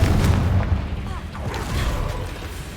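Confringo fire spell blast in the Hogwarts Legacy video game, a loud booming burst at the start that fades into a rumbling crackle, with brief whooshing effects and muffled voice sounds behind.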